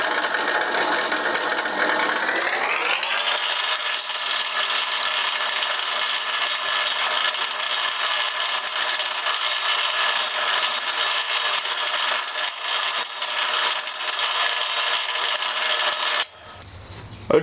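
A drill bores a hole through a wooden pen blank held in a jig, a steady loud whirring grind that spins up over the first few seconds, holds through the cut, then cuts off near the end.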